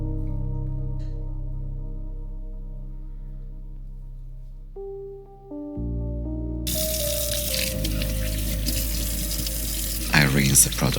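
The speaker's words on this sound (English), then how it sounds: "I rinse the product off and I dry carefully my face." Tap water runs into a sink as a face is rinsed, the splashing stream starting partway in and carrying on loud and close, with a bright clatter of water near the end, over a soft musical background.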